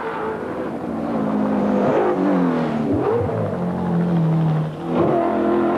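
A Commodore race car engine at the 1991 Bathurst 1000 revs hard and climbs in pitch, drops briefly at a shift from second to third gear, then climbs again while accelerating.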